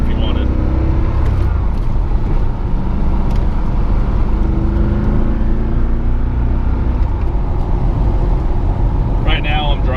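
A 1992 Chevrolet Corvette ZR1 with a 375 hp engine and six-speed manual being driven, its steady engine drone and road rumble heard from inside the cabin, loud and continuous.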